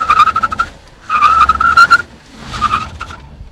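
An Audi S4 wagon with a 340 horsepower V8 braking hard, its tires squealing in three loud, pitched bursts separated by short gaps.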